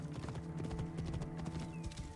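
Horse hooves clip-clop in the video game Assassin's Creed Origins, a quick, steady rhythm of close, moderately quiet hoofbeats over a low hum.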